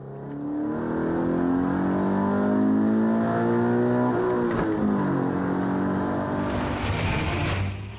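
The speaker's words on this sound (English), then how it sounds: "The four-cylinder engine is demanding, but rewards the driver inside with a thoroughly robust sound." A Toyota GT86's four-cylinder engine revs up through rising pitch, drops and climbs again, loud and close, with a strained buzzy tone and no talking.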